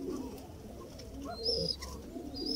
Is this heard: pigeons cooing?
yes